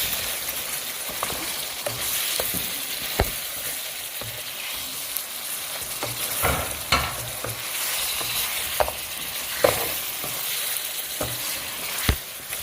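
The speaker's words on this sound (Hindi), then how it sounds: "इसके अंदर जा रहा है अदरक और लहसुन का पेस्ट थोड़ा सा। दोबारा से इसको भून लेंगे।" Chicken frying in a pan with ginger garlic paste, crackling and sizzling steadily up close while a utensil scrapes and stirs in repeated sharp strokes, with no voices.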